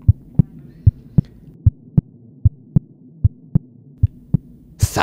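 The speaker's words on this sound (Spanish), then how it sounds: "Vuelvo a escuchar los latidos de mi corazón." Steady heartbeat with about a dozen evenly spaced, deep, muffled thumps, close and clear over a low hum, then a brief burst of noise at the end.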